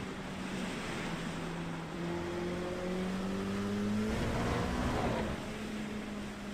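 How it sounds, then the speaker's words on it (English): An LMP2 prototype race car in the iRacing sim drives on a wet track, with a steady engine tone and a broad rushing wash of water spray as the tyres run through rain puddles, loud and continuous throughout. "So if you go in a puddle here, you hear it, and you go aquaplaning to the outside."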